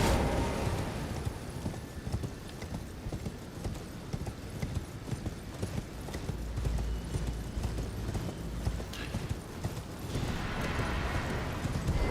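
Steady hoofbeats of a galloping horse in the video game Elden Ring clip-clop continuously over a dense, busy background of game sound effects.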